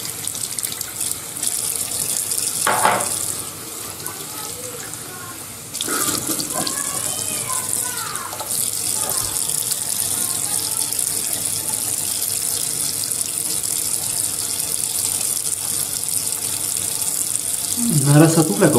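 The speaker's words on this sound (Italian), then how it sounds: "Una sciacquata con l'acqua e non c'è più niente." Tap water runs steadily into a sink for rinsing after a traditional shave, a loud continuous gush with shifts in flow and some splashing near the end.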